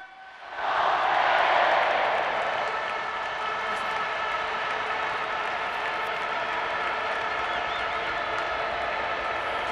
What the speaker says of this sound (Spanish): Un aplauso muy grande para don Vicente.